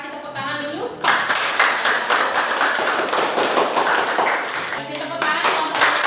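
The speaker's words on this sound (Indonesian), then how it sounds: "kita kasih tepuk tangan dulu" A classroom group claps rapidly and steadily for several seconds, a roomful of hands applauding at close range, with voices briefly heard at the start and end.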